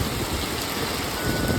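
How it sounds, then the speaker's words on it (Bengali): Heavy rain pours down outside a roadside shop where a vehicle has pulled over, a dense, steady roar of hiss that holds at an even loudness throughout. "দেখো কি জোরে বৃষ্টি হচ্ছে।"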